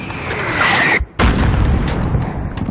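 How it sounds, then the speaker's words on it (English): Heavy mortar blasts boom through a Call of Duty: Modern Warfare (2019) battlefield, loud and close, with a brief dropout before another rumbling detonation rolls on under a dense wash of combat noise. "There's still a mortar out there."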